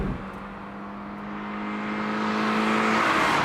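Naturally aspirated Toyota GR86 engine held around 4,000 RPM, a loud steady drone with a sustained tone that builds slightly in loudness before easing off near the end.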